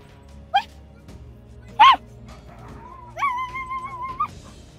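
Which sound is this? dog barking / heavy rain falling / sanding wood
dog barking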